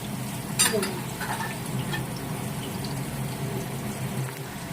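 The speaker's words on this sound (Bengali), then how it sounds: "এবার আমার আলুটা মোটামুটি ভাজা হয়ে গেছে।" Potatoes fry in a pan with a soft, steady sizzle, a few scrapes and clinks near the start, heard close but fairly quiet.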